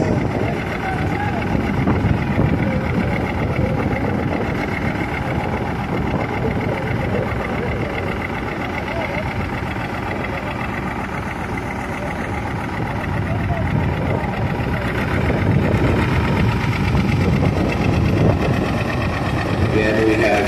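A 1952 John Deere Model tractor idles at an antique tractor pull, its steady low rumble running throughout with a voice talking over it.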